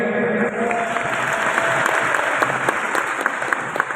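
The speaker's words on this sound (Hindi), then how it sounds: "आई थिंक इसमें कुछ छप्पर फाड़ तालियां होनी चाहिए।" Loud, dense audience applause filling a large hall at the Daraz summit 2023 event, sustained and even with scattered sharper claps and no talk.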